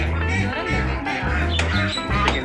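Ducks and Muscovy ducks at Pasar Curug market in Tangerang, Indonesia, quacking in a rhythmic series of nasal calls, close and loud, with market chatter and other voices mixed in.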